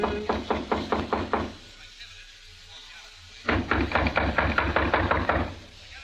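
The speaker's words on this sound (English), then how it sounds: "A few seconds later, I knocked on the door." Two runs of rapid, steady knocks on a hotel room door, heard close and loud, first one burst of knocks, then a brief pause with low background hum, then a second, longer series of raps.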